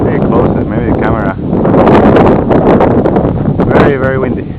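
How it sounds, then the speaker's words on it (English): Strong gusty wind buffets the microphone during a small MCPX quadcopter flight, roaring loudly throughout as someone speaks over it. "Very, very windy."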